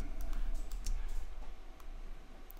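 Keyboard shortcuts are tapped on a Mac keyboard, a quick patter of light clicking keystrokes over a soft background hum.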